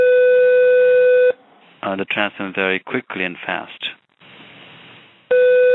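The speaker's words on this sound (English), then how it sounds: "I'm sorry, a phone is ringing." A steady electronic ring tone sounds, cuts off while a person speaks over it, then returns at the end.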